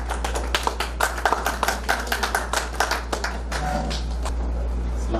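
Audience at a mushaira clapping to welcome a poet, a sparse run of individual hand claps from a small crowd, close and distinct, thinning out and fading toward the end.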